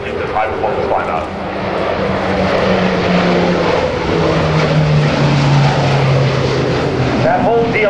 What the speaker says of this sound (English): The E-2 is going to perform a maximum climb out.